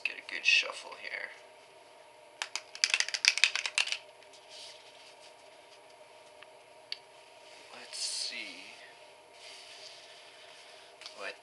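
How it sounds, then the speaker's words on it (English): Bursts of crisp riffling and clicking as a deck of cards is shuffled, close by, with soft rustles and a quiet room tone between. "let's get a good shuffle here."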